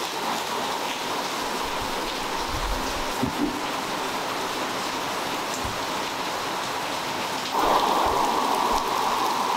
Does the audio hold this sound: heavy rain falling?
yes